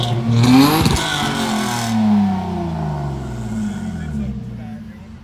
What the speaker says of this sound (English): That engine's not operating properly. It's like choking itself.